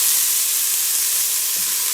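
Onions sizzle loudly in a very hot pan while being stirred, a dense, steady hiss heard close up with faint scraping underneath and no voices.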